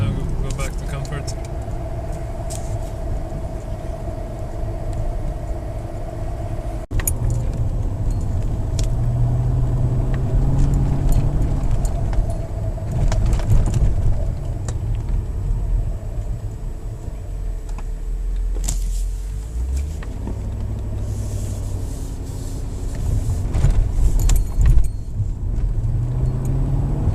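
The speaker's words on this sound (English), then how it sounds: "Shifting perfectly normally in comfort mode as well." A Mercedes S55 AMG with a 722.6 automatic gearbox, one with conductor plate trouble, drives in comfort mode, its engine rumbling steadily inside the cabin with subtle rises and drops as gears change, under someone talking.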